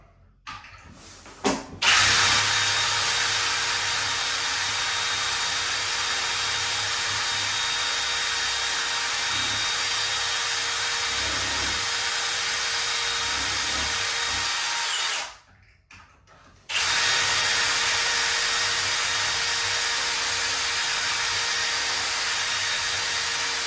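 A power drill whines loudly and steadily while drilling into a clamped cabinet door for a handle hole, stopping briefly partway through and then starting again. No one speaks.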